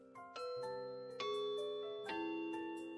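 A doorbell chime in the game Siren's Call rings out as a melodic electronic ding-dong, with three bright ringing strikes that each sustain and overlap, fairly soft and alone without talk.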